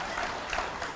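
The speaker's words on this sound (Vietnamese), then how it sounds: "Thôi vỗ tay cái cho." Studio audience applause on a Vietnamese comedy talk show, a brief, steady wash of many hands clapping with no talk over it.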